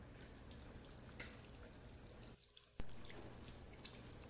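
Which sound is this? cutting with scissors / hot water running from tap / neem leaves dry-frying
hot water running from tap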